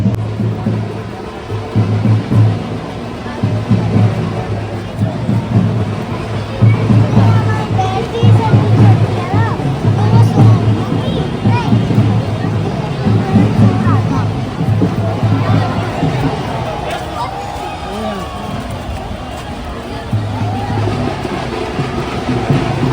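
Crowd at a Ravan Dahan festival ground in the rain, where effigies of Ravan, Kumbhkaran and Meghnath stand soaked: a steady, dense babble of many voices with children's chatter and a low hum, while someone talks nearby throughout.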